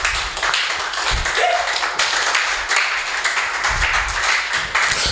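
A church congregation claps in praise during a service, a dense, steady patter of many hands continuing throughout, with faint voices mixed in.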